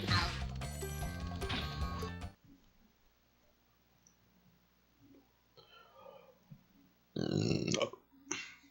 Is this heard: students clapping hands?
no